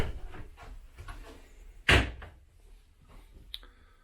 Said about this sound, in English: Additional storage behind the door here on the left hand side of the bathroom cabinet